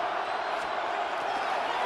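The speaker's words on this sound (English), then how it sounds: "The crowd cranking it up another notch before third and long." Stadium crowd noise in Madden NFL 26 before a third and long, a steady broad roar of cheering that stays loud and even throughout.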